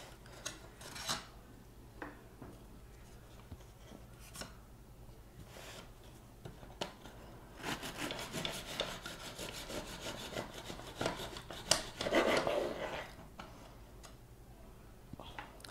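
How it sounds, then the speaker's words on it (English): A knife saws through a loaf of homemade honey oat bread, giving soft, intermittent rasping strokes with bursts of crumbly scraping, fairly quiet and close, no talk. "So I'm just gonna show you guys how I cut the bread."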